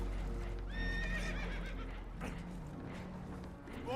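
Spooked horses in Red Dead Redemption 2 let out a loud, wavering whinny near the start, with clip-clop hooves, low rumbling, a faint further neigh at the end and soft voices in the background.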